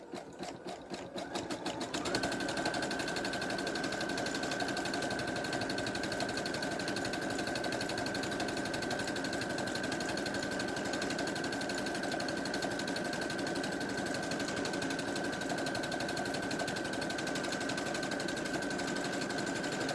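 A sewing machine runs steadily in an applique stitch, its rapid mechanical chatter continuous and close after a brief start-up, with a sustained motor whine underneath.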